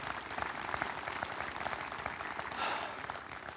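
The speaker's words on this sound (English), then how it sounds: "That definitely deserves a round of applause." A room full of people claps steadily in honor of Inez at an event featuring the Deputy Secretary of Energy, a dense, even patter of hands that swells slightly near the end, with no voice over it.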